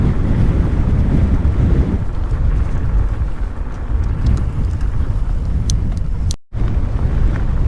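Strong wind on a cold morning mountain bike trail buffets the microphone in a constant loud roar, with a brief dropout near the end.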